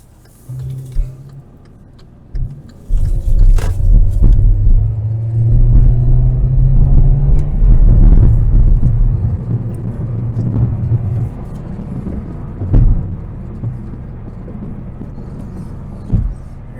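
A 2017 Hyundai Elantra, with a fault that makes it stall and shake, drives and accelerates: a loud, steady engine rumble swells after a few seconds, holds, then eases off near the end.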